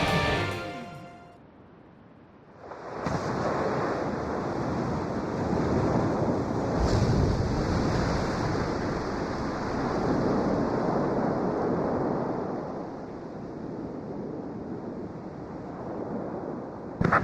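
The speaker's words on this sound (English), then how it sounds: "The Rimfax's antenna has appeared above water. It's surfacing." The enemy submarine Rimfax surfacing in the video game Ace Combat 5, heard as a loud, sustained rush of churning water and wind that swells in after a quiet start and holds steady to the end.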